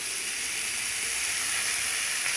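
Onions sizzling in hot oil in a pan for a cluster bean stir-fry, a steady close hiss and crackle with no talk.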